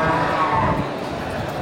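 A jumbo local beef bull at the Geulumpang Payong livestock market gives a short, low lowing call at the start, set against a constant murmur of market crowd noise.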